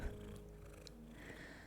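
A cat purring close up, a soft continuous low rumbling drone that holds steady throughout and carries no talk over it.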